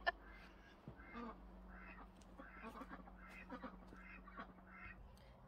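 Ducks hatched from incubated eggs quack in a steady run of short repeated calls at moderate distance, with a low background hum throughout.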